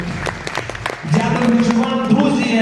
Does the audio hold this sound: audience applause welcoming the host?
yes